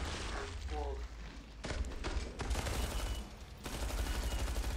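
A Tommy gun firing in Killing Floor 2, loud bursts of rapid automatic fire in several stretches, with a voice briefly speaking near the start.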